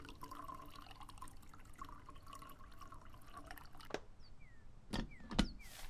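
Water poured for coffee in a horror video game, a soft trickle with faint drips, quiet and close, followed by a few sharper clicks and knocks.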